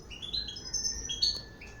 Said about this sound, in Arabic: الذكر الواجد يخير أعلى نقطة في السلاكة ويبدا يغني بصوت عالي